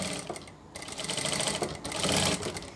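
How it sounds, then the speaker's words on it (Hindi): A sewing machine runs steadily while stitching a sleeve hem folded half an inch inward, its fast even whir close and continuous with no voices. "अब हम इसको 1/2 इंच अंदर की तरफ फोल्ड करते हुए जो हमने नीचे निशान लगाया है इसके ऊपर यहाँ से सिलाई लगा लेंगे"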